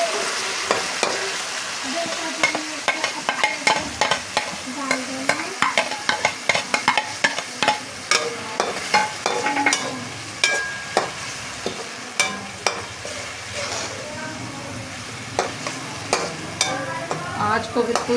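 Chicken sizzles and fries in a pan with ginger, garlic and green chili paste, with steady crackling and repeated sharp clicks of stirring against the pan, close and fairly loud, no talking.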